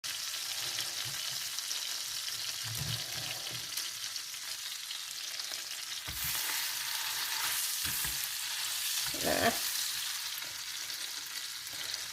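Steak searing in a hot pan, a constant bright sizzle and hiss throughout, with a few brief bumps and handling knocks toward the end, no talking.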